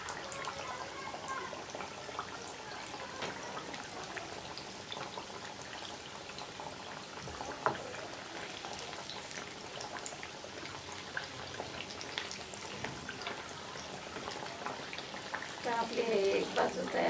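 Sabudana vadas deep-frying slowly in a kadai give off a continuous bubbling, crackling hiss at moderate level that swells slightly toward the end, with no talking heard.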